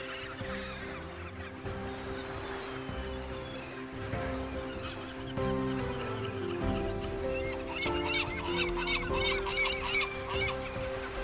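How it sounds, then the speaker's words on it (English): Loud, dense honking and squawking from many birds at once, a continuous raucous chorus with no pauses. "Their massive colonies are home to thousands of nesting birds."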